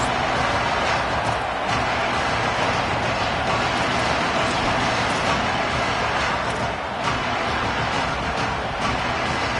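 Football stadium crowd at a Buckeyes game, a loud, continuous roar of massed voices filling the space, steady with slight swells.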